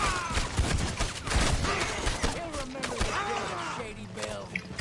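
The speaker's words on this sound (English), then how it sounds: "What the fuck's shooting at me? A Gatling gun?" Gatling gun firing in the video game Red Dead Redemption 2, dense rattling volleys of rapid shots, loud and sustained at first, then thinning out, with a voice talking briefly over the gunfire.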